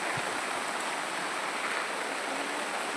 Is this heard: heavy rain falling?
yes